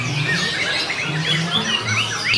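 A cucak ijo, the green leafbird, sings loudly and continuously at close range in a rapid run of varied whistles and chirps.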